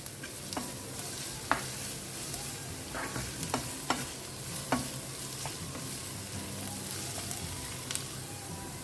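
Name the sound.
stirring and sautéing stuffing mixture in a pan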